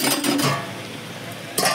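A metal lid set back onto a cooking pot of potato and plantain curry, a couple of close clinks and a short scrape, then quiet, with another clink at the end.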